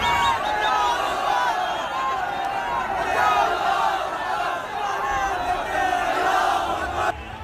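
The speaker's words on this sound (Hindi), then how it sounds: "कुछ देर में भीड़ ने नारेबाजी शुरू कर दी।" A large crowd chants and shouts slogans together during riot unrest in Jodhpur, a dense, sustained roar of many voices at a distance.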